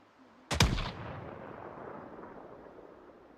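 A single loud, sharp game gunshot cracks out close by, then rolls off into a long, fading echo, with no talk over it.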